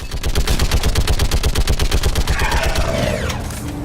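Rapid turret gunfire in Mass Effect 3 hammers out a dense, steady stream of shots for nearly four seconds, loud and close, with a faint sweeping tone rising near the end.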